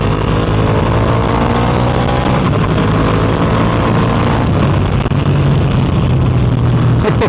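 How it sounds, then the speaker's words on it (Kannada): Ducati SF V2 naked street motorcycle engine under throttle, a loud, close, steady droning rumble with a sustained low tone that shifts slightly in pitch while riding, no distinct separate revs. "ಬನ್ನಿ ಒಂದು ಸ್ವಲ್ಪ ಥ್ರಾಟಲ್ ಕೊಟ್ಟು ನೋಡೋಣ"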